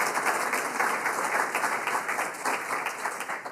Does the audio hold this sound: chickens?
no